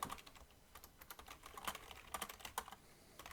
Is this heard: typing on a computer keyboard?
yes